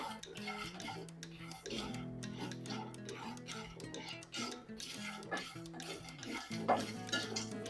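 Cumin, coriander seeds and roasted peanuts dry-roasting in a pan for a bitter gourd masala, with steady stirring scrapes and clinks of a spoon against the metal, continuous and close.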